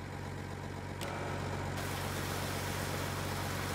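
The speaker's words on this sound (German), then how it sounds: "Den schönen MP-Truck 1000 Intercooler." Steady, loud engine drone of an idling MP-Truck 1000 Intercooler in Farming Simulator 19, a constant low rumble with an even pulse and no voices.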